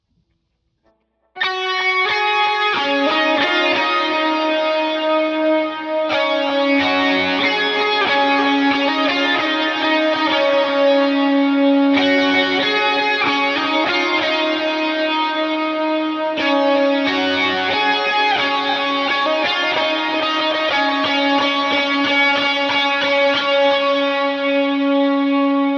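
Lead guitar plays the chorus of a song through effects: a sustained, chiming melodic line washed in chorus, reverb and mild distortion, rhythmic note attacks over a steady loud bed after a brief quiet start.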